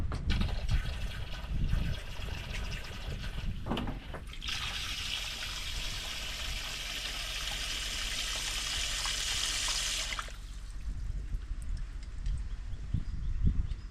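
A strong stream of water pours into an antique wringer washer in a remote Alaska home, a steady rushing fill with splashing at the start and a rough gurgle after it eases.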